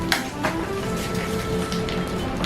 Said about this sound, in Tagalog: Ito, lagyan nyo ng yelo.